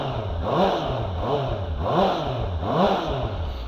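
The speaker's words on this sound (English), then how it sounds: "it's got that sort of racer engine sound to it." A Benda LFC700 motorcycle engine is revved repeatedly in four rhythmic rising-and-falling blips, close and fairly loud with a racy, high-strung tone and no talking over it.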